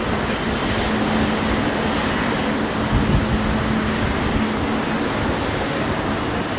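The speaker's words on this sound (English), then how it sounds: "Something's starting up. What's that starting up? Is that one of these jets that's taxiing up, perhaps?" A jet aircraft engine spins up at London Heathrow Airport, giving a loud, steady roar with a faint sustained tone running through it and a slight swell partway, with no voices.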